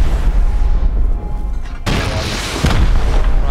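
Rocket launcher explosions in the game Rust, a deep booming blast followed by another sudden loud detonation with a rumbling tail, close and powerful.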